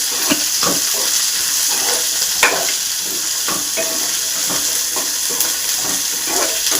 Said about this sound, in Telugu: ఇందులో ఆనియన్స్ వేసుకుందాం, పచ్చిమిరపకాయలు రెండు కలిపి. ఇది కూడా ఫ్రై అయ్యేంత వరకు ఫ్రై చేసుకుందాం.